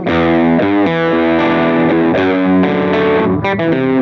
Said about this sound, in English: crank the low, wind the high right back, and maybe with a bit more gain, we get a great, almost coq-wah sound